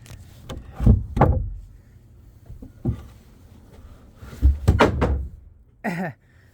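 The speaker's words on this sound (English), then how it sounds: "there's like a mini little trap door here" A mini trap door at a playground is opened and shut, giving a few hollow wooden thunks and knocks spread across the moment, close by, with quiet gaps between them.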